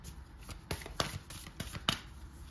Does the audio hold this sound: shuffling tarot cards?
yes